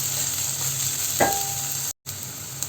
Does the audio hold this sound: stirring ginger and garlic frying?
yes